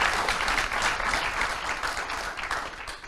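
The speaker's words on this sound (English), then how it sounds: "Please, round of applause for this wonderful panel." An audience at an energy conference claps for a panel, a dense and sustained burst of applause heard alone with no voices over it.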